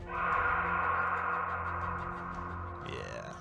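A voice imitates a creature's dying cry in a tabletop role-playing game, a sustained strained, groaning wail that holds for about three seconds and then rises into a short higher squeal, close and alone.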